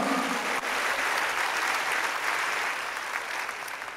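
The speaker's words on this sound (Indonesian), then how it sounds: "Kita berikan tepuk tangan buat Tuhan." A church congregation claps together in a sustained round of applause, dense and steady throughout, slowly easing off toward the end.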